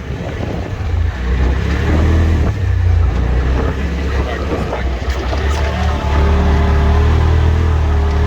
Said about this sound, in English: All right, we're gonna let Blake behind the wheel for a good spin.